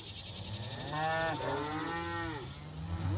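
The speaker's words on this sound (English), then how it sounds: "Some of the cows are just standing there balling" Cattle in a grazing cow mob on a pasture pond dam moo and bawl, a few long, overlapping, wavering calls rising in the middle, fairly near.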